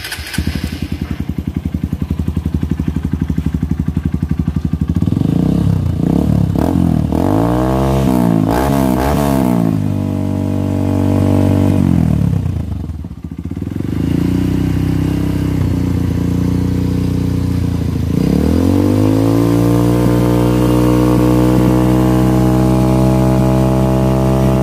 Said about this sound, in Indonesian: motor Kawasaki KLX, di mana suaranya sangat menggemparkan ya ini